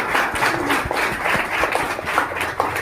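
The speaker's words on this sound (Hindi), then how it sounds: "मैं चाहता हूँ कि आप सब हमारी बड़ी माँ के लिए ताली मारे" A church congregation claps together for a mother's tribute, a steady dense patter of many hands at close range, continuing evenly without talk.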